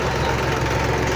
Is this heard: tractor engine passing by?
yes